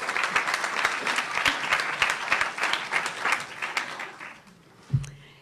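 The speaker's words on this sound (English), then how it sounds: "if you could please join me in a warm round of applause for Josée" A warm round of audience applause for a speaker at a talk on dietary fibre in IBD, dense clapping that swells and then tapers off, ending with a brief thump near the close.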